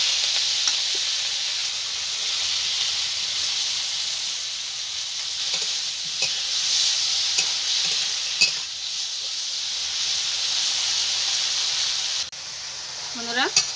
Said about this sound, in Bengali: তেল গরম হয়ে গেছে, আমি চিংড়িগুলোকে ভেজে নেব।